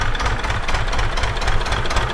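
A tractor engine runs steadily while sowing wheat in a field, a loud close rumbling drone with a knocking diesel texture and no pauses.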